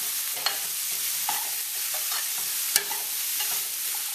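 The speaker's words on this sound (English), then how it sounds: "I'm going to give that a stir." A chickpea and potato curry seasoned with fresh ground black pepper sizzles steadily in a pan while a spoon scrapes and knocks against it in a few distinct strokes; nobody speaks.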